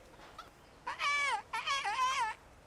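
A human voice imitates a nightingale's song in the game Kingdom Come, two wavering, warbling whistle-like phrases with a short pause between them, close and clear.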